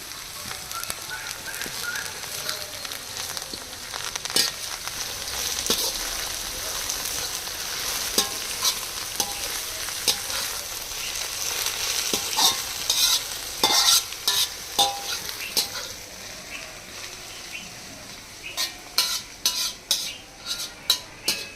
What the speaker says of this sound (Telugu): ఆయిల్ వేడైన తర్వాత కొత్తిమీర వేసుకోవాలి కొంచెం వేగించాలండి